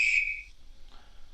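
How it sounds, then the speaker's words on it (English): A guard's whistle from a Hornby TXS HM7000 sound chip in a Hornby R30283 BR Coronation model locomotive gives one short, shrill, loud blast that quickly fades. "Guard's whistle."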